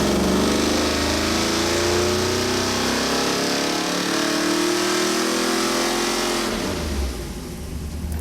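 A 454 big block V8 in a Monte Carlo roars loud and steady on a dyno with timing raised to 35 degrees, revving hard at full load, then cutting off abruptly near the end as the engine winds down.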